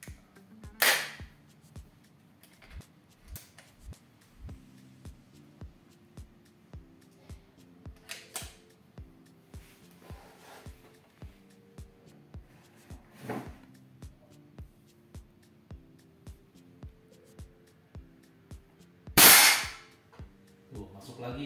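Target shooting with a small firearm: a few sharp cracks stand out, spaced several seconds apart, one especially loud near the end, over a quiet background of soft regular ticks and low hum.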